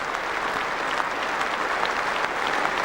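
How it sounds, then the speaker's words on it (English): Cricket fans give a standing ovation at Lord's Cricket Ground as Inzamam-ul-Haq walks off during the 1996 Pakistan vs England Test, loud, even, unbroken applause from a large crowd. "he walks off to a standing ovation here at Lord's Cricket Ground"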